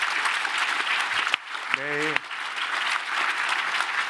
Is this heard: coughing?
no